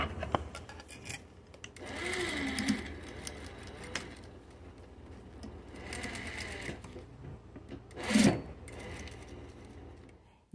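A sewing machine straight-stitches rows of a fabric rag rug in several bursts of rapid mechanical whirring, with pauses between runs and a sharp clunk near the end.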